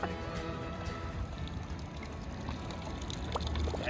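Hot water runs steadily from an old public drinking fountain outdoors, a continuous close splashing pour that lasts throughout with no voices over it.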